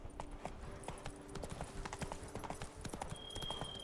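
Roach the horse gallops in The Witcher 3, a quick, even clip-clop of hooves throughout, fairly quiet under faint game ambience.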